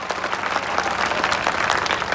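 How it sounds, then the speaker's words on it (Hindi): Audience applause fills a theatre after a Thespians group play performance in Ambala, a dense, steady patter of many hands clapping throughout, no voices over it. "अभी अपलोज तालियों की आवाज आनी चाहिए चारों तरफ से"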